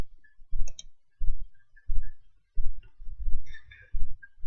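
Computer mouse buttons click repeatedly at close range, about seven distinct, fairly loud clicks spaced roughly half a second to a second apart, with no voice present.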